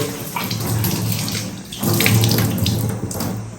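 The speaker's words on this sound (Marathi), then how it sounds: "हात धुवून घेतो चटचट" Hands being washed under a running kitchen tap, a loud, close, continuous rush of water with splashing shifts as the hands move through the stream.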